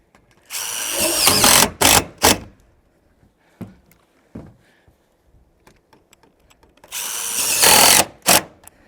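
A power drill drives screws into metal roofing on a 30x40 building, with two loud whirring bursts separated by short clicks and taps, close by and without talk.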